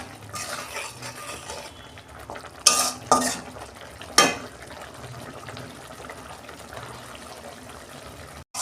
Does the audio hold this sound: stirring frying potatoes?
yes